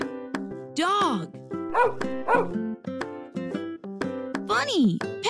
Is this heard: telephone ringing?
no